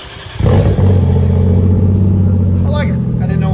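A 2001 Lexus IS 300 with a 2JZ engine and titanium muffler barks to life, then holds a loud, steady, deep exhaust drone close by, with brief voices and higher tones layered over the rumble near the end.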